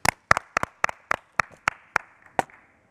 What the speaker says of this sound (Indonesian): Berikutnya beri tepuk tangan untuk Tumpal Silalahi.